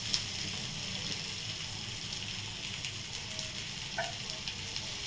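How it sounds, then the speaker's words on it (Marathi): A soft, steady sizzle of a coriander flatbread (bhakri) cooking on a hot griddle, with faint crackles and a small clatter near the end. "आता ही भाकरी अशी घ्यायची आणि अशी तव्यावर टाकायची"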